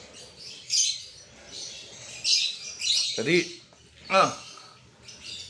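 Pet lovebird chirping in short bright bursts, several high tweets and a squawk-like call spread across the clip, close and fairly clear, with someone speaking briefly.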